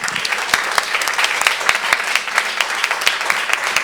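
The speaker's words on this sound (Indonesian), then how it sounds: "Setengah menit beri tepuk tangan untuk Tuhan." A church congregation at a Sunday worship service of a Pentecostal church in Gorontalo applauds. Dense, sustained clapping fills the space, with sharper individual claps standing out through the steady roar of the crowd.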